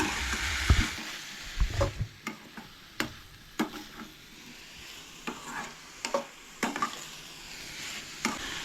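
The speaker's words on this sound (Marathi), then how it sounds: "सो मिक्स करून करून ना अशें भाजून घेयात मध्यम अशें भाजून घेयात" Onions and tomatoes are stirred and fried at medium heat in a pan for Goan-style chana masala, a soft background sizzle punctuated by repeated sharp taps and scrapes of a spoon against the pan, irregular and close.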